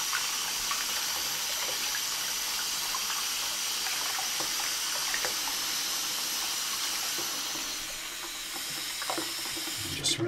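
Plastic model kit parts for a 1/24 scale DeLorean slot car rinsed under running tap water, a steady hissing stream splashing into a sink nearby, changing slightly as the parts move through it.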